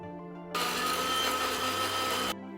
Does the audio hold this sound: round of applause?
no